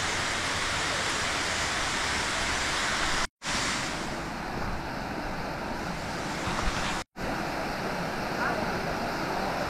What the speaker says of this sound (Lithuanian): Naumang waterfall.